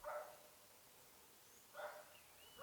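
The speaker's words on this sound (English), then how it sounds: "Maybe there's some dog barks you're hearing" A dog barking somewhere in the distance, two faint separate barks about two seconds apart over quiet room background.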